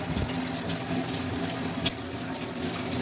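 Kitchen tap running steadily into a sink, a continuous close gush of water with faint splashes, no voices.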